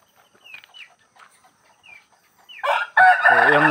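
Chickens cluck and chirp faintly near a backyard pen at first, then a rooster crows loudly and close at the end, with no talk over it.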